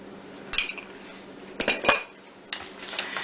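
A cornstarch, water and vanilla mixture stirred in a bowl for vegan butter cookies, giving a few short, sharp clinks of a utensil against the dish in separate bursts, close and fairly quiet.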